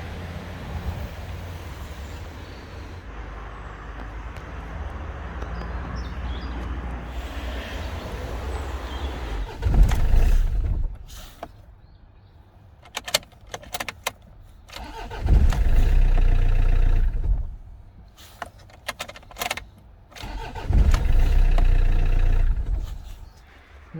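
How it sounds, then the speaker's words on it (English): A Land Rover engine with a starting fault cranks and catches three times, each time running loudly for a second or two before cutting out, with quiet pauses and faint clicks between attempts. "It just cuts out after about 1 second, even if you rev it."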